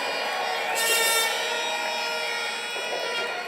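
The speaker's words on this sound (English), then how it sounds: "give yourselves a round of applause" A large crowd of thousands packed into a hall at Naparima for a political forum, cheering and applauding in a sustained, dense roar with no clear gaps.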